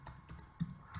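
Keystrokes on a computer keyboard as a command is entered: a handful of separate clicks at a steady pace, close and moderately loud, no talking.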